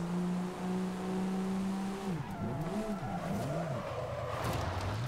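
Land Rover Defender in Forza Horizon 5 revs with a steady engine whine, then spins out, the engine pitch swooping up and down with tire squeal and skidding, loud and close.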